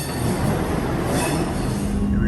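Class 158 diesel passenger train passing near Arnside and Carnforth on the line toward Barrow and Leeds, a loud close roar of wheels on rails with a thin squeal toward the end.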